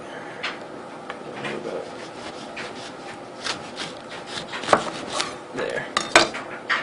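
Knife slicing through a grapefruit on a cutting surface, with scraping, rubbing and a few sharp clinks and taps that grow busier toward the end, close and moderately loud.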